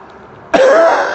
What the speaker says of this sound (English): I've got a horrible cough forever and a day.